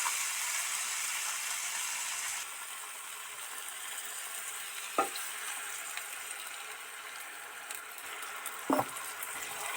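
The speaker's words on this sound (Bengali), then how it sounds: "এবার জল দিয়ে দেব।" Soya kofta curry masala sizzling steadily in a pan, the frying hiss shifting as water is poured in, with a couple of faint clinks from a utensil; no talking.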